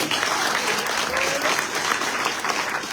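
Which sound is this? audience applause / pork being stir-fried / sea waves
audience applause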